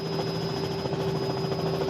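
A Robinson R66 helicopter in Microsoft Flight Simulator settles in to land, its engine turbine whine and rotor thrum a loud, steady, continuous drone throughout.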